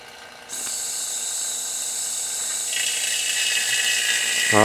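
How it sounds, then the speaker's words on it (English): Vacuum pump on a Honda Civic AC system turns on with a sudden steady hiss and whine, then a higher suction tone joins as a valve is cracked to draw oil in, ending with a rising squeal. "So we're going to turn the pump on and then just crack this valve right here, and that's going to create a little bit of suction"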